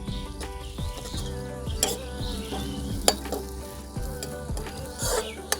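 Chopped ginger and crushed garlic sizzle and crackle in a hot pan over a steady frying hiss, with occasional utensil scrapes and taps while being stirred, alongside a faint background tone.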